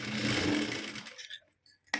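A sewing machine stitches a seam on a princess-cut blouse, a steady close whir for about a second that sputters out into brief taps and a final short burst.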